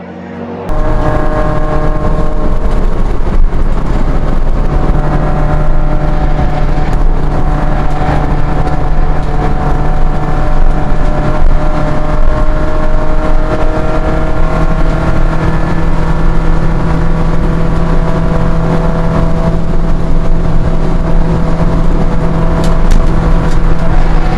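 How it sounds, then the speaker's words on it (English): Renault 5 GT Turbo and Peugeot 206 GTi racing cars at Thruxton circuit, a steady loud drone of several engines running together throughout with sustained harmonic tones, no pauses and no talk. "I can see about 7 cars now coming up Woodham's Hill"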